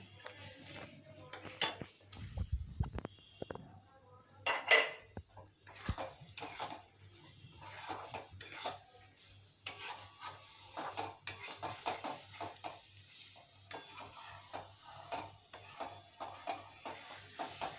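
Fried paneer is stirred into masala in a pan, with faint, scattered clinks and scrapes of a spoon against the pan.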